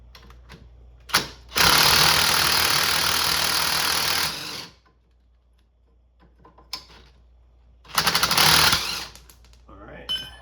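Power drill spinning a 19 mm nut off an ATV during a drum-to-disc brake conversion: two loud sustained whirring bursts, a long one near the start and a shorter one later, separated by quiet handling clatter.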